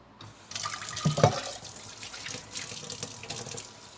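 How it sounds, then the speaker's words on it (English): A kitchen tap runs into a sink while a saucepan is washed, a steady hiss of water with a few clattering knocks of the pan near the start, fairly close and moderately loud. "Let me wash my saucepan while we're here."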